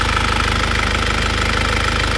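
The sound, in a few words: Isuzu Panther 2001 diesel engine running, rough liner knock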